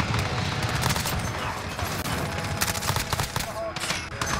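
MP5 submachine gun fire in Call of Duty Modern Warfare, loud sustained bursts of rapid automatic shots throughout with dense, overlapping reports.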